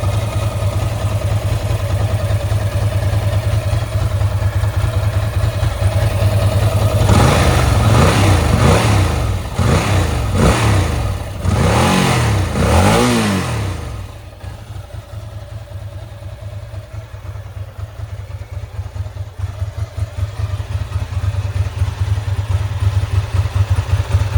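A Ducati 907IE motorcycle engine runs steadily at idle, a loud close low rumble that swells with a few throttle blips partway through, then settles back to an even idle, with no one talking.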